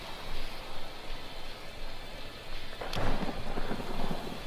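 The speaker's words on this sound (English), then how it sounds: "The storm is getting nasty." Steady hissing rain falls throughout a thunderstorm in the video game Three Fourths Home, and a sharp crack of thunder near the middle rolls on into a rumble.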